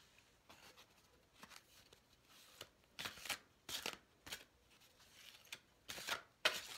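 A tarot card deck is shuffled up close in a quiet room, producing soft papery riffles and flicks in irregular bursts that grow slightly louder toward the end, with no talking.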